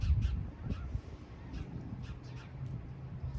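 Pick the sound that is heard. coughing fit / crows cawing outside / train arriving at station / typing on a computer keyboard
crows cawing outside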